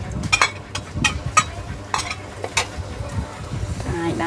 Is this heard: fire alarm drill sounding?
no